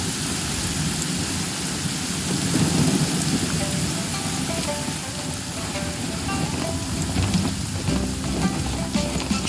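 Steady rain pours down in a Genshin Impact downpour, a continuous hiss with low thunder rumbling faintly underneath and no voices.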